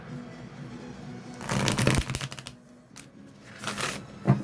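Tarot card decks shuffled by hand, two quick riffling bursts with a pause between them, close and crisp, with no voices.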